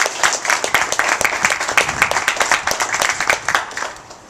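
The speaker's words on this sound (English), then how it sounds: "we will have a round of applause for him too" An audience at a university economics master's commencement ceremony breaks into steady, dense applause, many hands clapping together at an even level before fading toward the end.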